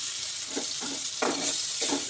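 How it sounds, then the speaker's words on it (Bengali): Chopped onions fry in oil under a constant hiss, with several soft stirring scrapes recurring roughly every half second. "ওটা ভেজে রাখা তেলের মধ্যে আমি পেঁয়াজ কুচিটা দিয়ে দিচ্ছি। পেঁয়াজটা আমি একদম লাল করে ভেজে নেব।"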